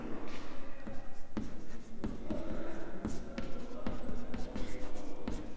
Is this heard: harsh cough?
no